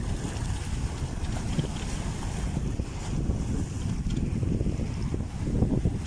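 A boat engine running on the Savitri river gives a steady, dense low rumble mixed with wind and water noise, continuous and fairly loud throughout.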